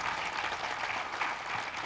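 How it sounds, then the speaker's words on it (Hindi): An audience claps in a steady, dense wash of applause, a crowd heard evenly throughout at moderate volume with no voices standing out. "एक बार ताली फिर बजा लेते हैं।"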